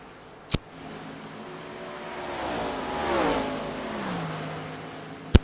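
A race car engine revs and sweeps past at Atlanta Motor Speedway, its pitch rising then dropping as it goes by, framed by two sharp clicks.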